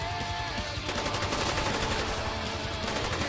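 Sustained automatic AK-74 fire in Black Ops Call of the Dead zombies, loud and continuous with rapid bursts over droning game music.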